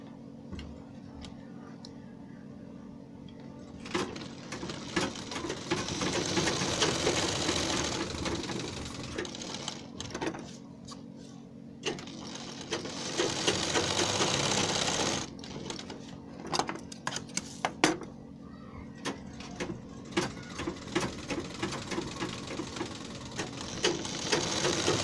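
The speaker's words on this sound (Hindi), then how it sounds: "और फिर इस पर सिलाई लगा लेना है।" Sewing machine stitching loops onto the hem of palazzo pants, running in long steady whirring bursts with rapid ticking, pausing between runs, with scattered clicks and handling noises nearby.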